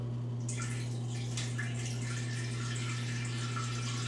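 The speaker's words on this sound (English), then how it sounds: "Someone wanted to hear me tinkle." A person urinating into the water of a circular toilet bowl, a steady trickling and splashing stream that runs unbroken and close, with a low constant hum underneath.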